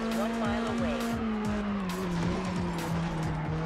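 A car in Test Drive Unlimited on PS2 speeds away from pursuing police, its engine droning steadily with repeated tire squeals and skids, loud and close throughout.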